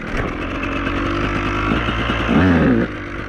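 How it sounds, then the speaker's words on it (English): Motorcycle ride with a loud, steady engine drone close by, swelling briefly louder near the end before settling back. "we'll jump on the bike, go for a rip around"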